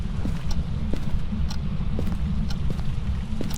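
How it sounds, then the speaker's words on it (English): Steady footsteps fall at an even walking pace in the video game Phasmophobia, as soft regular thuds under a loud, constant low rumble of ambient noise. "I hear footsteps."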